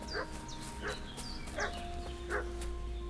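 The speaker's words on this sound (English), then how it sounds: "What's that dog making such a fuss about?" Dog barking in the medieval village of Kingdom Come: Deliverance 2, four short repeated barks in a steady rhythm at moderate distance over a low ambient hum, with faint chirps between them.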